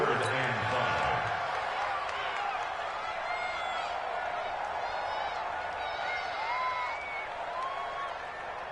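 Stadium crowd in a PS4 football video game building noise ahead of a big third down, a continuous roar with whistles and cheers throughout, while a commentator's voice runs underneath.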